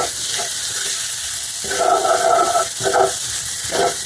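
Flour frying in a pan during sauce-making in a home kitchen for a French peas recipe, a steady broadband sizzle with bursts of stirring and scraping, close and fairly loud, with no talking.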